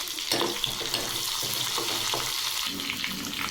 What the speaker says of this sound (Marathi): तेल गरम झालं आहे त्यामध्ये जिरे मोहरी टाकू